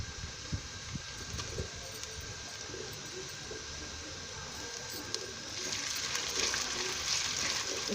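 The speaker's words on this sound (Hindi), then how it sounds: "इसको भी घी में थोड़ा सा भून लेंगे" Ginger, garlic and crushed chili sizzle steadily in hot ghee, a close, continuous frying hiss that grows a little louder and brighter toward the end, with no talking.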